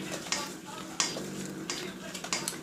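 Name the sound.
mixing softened butter in a bowl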